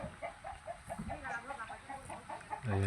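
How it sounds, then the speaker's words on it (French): Meat chickens clucking in a wooden coop at a Thai building site produce soft, repeated rhythmic clucks at moderate distance, followed by a louder low thump at the end. "ça c'est des poulets pour la viande, c'est pas pour les œufs ça"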